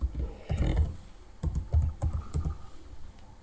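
Keys tap on a computer keyboard as a folder name is typed, quick clustered clicks in two short bursts, close and clear with no talk.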